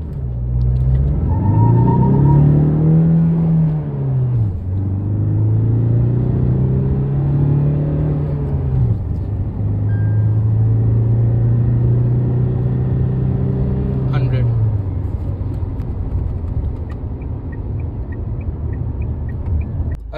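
A Tata Safari accelerates hard from a standstill in first gear in city mode; the loud engine note climbs in pitch, drops and climbs again in repeated surges, then falls back to a lower idle at the end.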